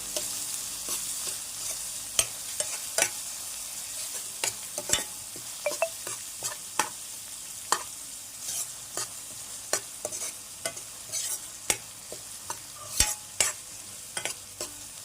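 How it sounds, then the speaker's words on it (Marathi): Chopped onion frying for rava upma, with a spoon repeatedly scraping and stirring it in the pan, sharp irregular clicks over a soft continuous sizzle, close up and with no talking. "त्यामध्ये कांदा आता आपल्याला व्यवस्थित भाजून घ्यायचं आहे"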